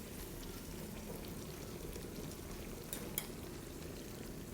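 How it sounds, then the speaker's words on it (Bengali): Luchi, a puffed flatbread, fries in hot oil with a soft, steady bubbling crackle that stays quiet throughout, with a couple of sharper pops near the end. "লুচি গরম তেলে দিয়ে তারপর একটু সাইড করে এরকম করলেই লুচিটা পুরো ফুলে যায়।"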